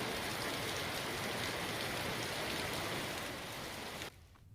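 Monsoon rain pours steadily under dark clouds, a dense, even hiss of falling water at close range that continues without pause until it suddenly drops away at the end.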